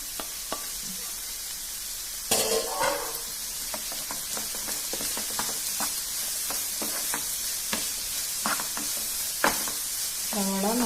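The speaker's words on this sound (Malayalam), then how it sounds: "സവാള നല്ലപോലെ വഴണ്ട് വരണം, നന്നായിട്ട് വഴണ്ട് വരണം" Onions with green chili and turmeric sauté in a pan, sizzling steadily under frequent scraping strokes and sharp clinks of a spoon against the pan.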